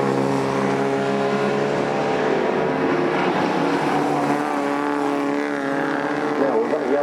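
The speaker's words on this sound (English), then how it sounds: "there goes Jamie Burkitt on the far side of the circuit, going into Hawthorne" XR2 race cars at Croft circuit in September 2004 give off a continuous, loud, layered engine drone as they race on the far side of the track, with a commentator speaking over it.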